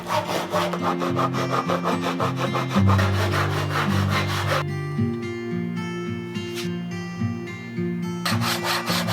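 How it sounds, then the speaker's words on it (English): A dovetail saw cuts a kerf into a wooden acoustic guitar end wedge, loud, close rhythmic back-and-forth rasping strokes that shift pitch partway through, heard alone with no talking. "I then used my dovetail saw to cut a kerf on each side of the end wedge"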